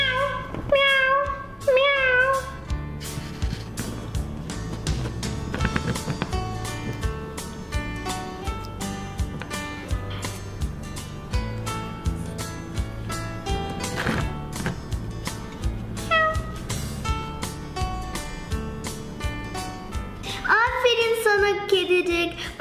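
Toy cat meows from a Barbie cat-care playset, high sweeping mews at the start and end over steady background music and clattering play sounds.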